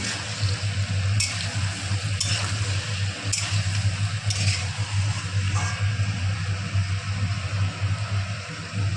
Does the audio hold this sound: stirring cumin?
yes